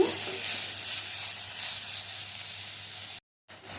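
Ivy gourd (dondakaya) and freshly added tomatoes hiss in a hot pan with a steady, close sizzle that runs unbroken, cuts out briefly near the end, then resumes.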